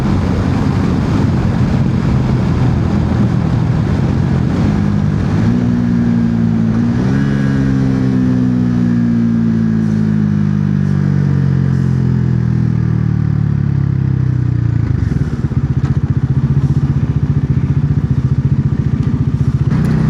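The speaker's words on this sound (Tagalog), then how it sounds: "Sarap magmotor." Motorcycle ride with a loud, continuous engine drone that shifts pitch as the rider moves through the gears, rising and settling steadily over about twenty seconds with no talking.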